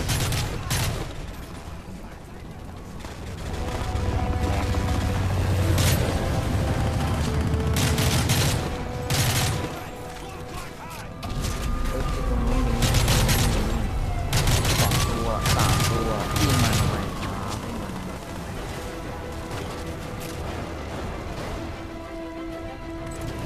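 An XM25 grenade launcher fires in the Modern Warfare 3 video game, giving repeated sharp reports and booms. Mechanical game sounds and background battle noise run under it for over twenty seconds.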